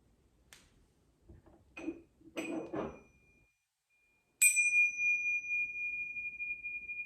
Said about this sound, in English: we'll end this meditation with the ringing of the bells.